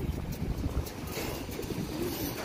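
Racing pigeons at a loft coo in low, soft, continuous murmurs close by, with no one talking.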